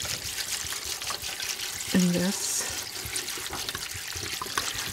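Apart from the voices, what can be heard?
water being poured into a dye pot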